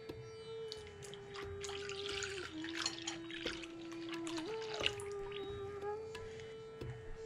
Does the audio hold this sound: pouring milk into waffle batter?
yes